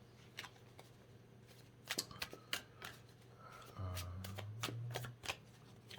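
A tarot deck is shuffled close up in a quiet room, giving scattered crisp card snaps and riffles, with a brief low hum of handling toward the end.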